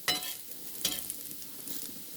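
Bottle gourd leaf fritters coated in gram flour batter fry in hot oil with a soft, fairly quiet sizzle and a couple of brief stirring clatters near the pan.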